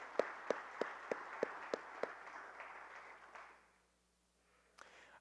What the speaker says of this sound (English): just a round of applause for all these people that help make these things happen